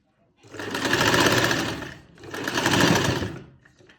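Sewing machine stitching lace onto a dupatta: two loud close bursts of rapid whirring stitching, separated by a brief pause, with no talking.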